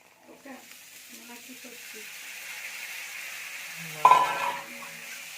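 Boiled green peas frying in a pan for a spicy pea fry, a soft, low sizzle that runs steadily under faint talk, then a sudden louder clatter and stir near the end.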